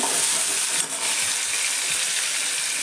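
Tomato frying in dal over a low gas flame: a steady, close hiss and sizzle that holds evenly throughout, with a brief soft stir partway through and no talking.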